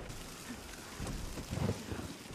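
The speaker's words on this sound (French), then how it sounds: "Voilà, tempête énervée." Steady rain hisses while low thunder rumbles and swells in the middle, a stormy wash with no voices.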